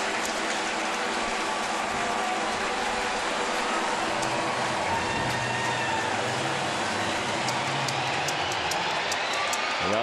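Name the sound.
loud crowd at a Cardinals vs Mets baseball game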